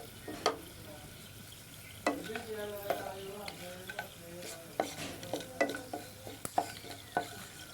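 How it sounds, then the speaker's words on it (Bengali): Garam masala spices frying in a pan, with a utensil scraping and stirring them in repeated strokes over a steady low sizzle, close and clear, no voices. "যে গরম মশলাগুলো রেখেছিলাম ওগুলোকে ভাজতে দিয়ে দিব।"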